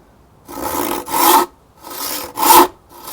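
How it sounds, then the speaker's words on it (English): A handsaw cuts through timber with steady rasping strokes, four or five close, loud push-and-pull passes in an even rhythm with brief gaps between them. "once my saw goes through this line and down that line, I'm on a vertical plane and at 90 degrees to the timber"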